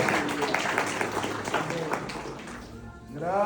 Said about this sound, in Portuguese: Dê uma salva de palmas bem forte, Senhor